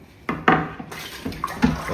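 Tap water runs into a sink while raw chicken feet are rinsed for Jamaican curry chicken foot, a steady splashing stream broken by louder splashes and clunks as the feet are handled.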